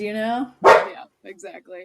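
A single loud dog bark bursts out between stretches of conversation, with people talking before and after it.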